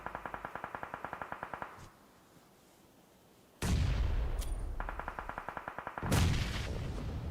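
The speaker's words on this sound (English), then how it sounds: "Well, trading grenades." In a competitive shooter match, a rapid, evenly spaced burst of gunfire gives way to a brief lull. Two heavy grenade explosions follow a few seconds apart, with more rhythmic gunfire between them, all at moderate distance.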